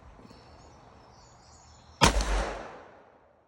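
Single loud, sharp gunshot from a Ruger .44 Magnum revolver firing an over-maximum handload at an outdoor range, a sudden blast with a rumbling decay over about a second, preceded by quiet ambient hiss.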